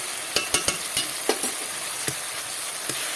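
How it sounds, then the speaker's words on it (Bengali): Spice paste frying and sizzling in a pan for a vegetarian flour-based dish, a steady close hiss broken by several sharp scraping stirs of a utensil. "এই যে মশলার পেস্টটা আমি তৈরি করে রাখলাম সেইটা, দিয়ে সমস্ত মশলাটাকে আমি ভালো করে কষিয়ে নেব"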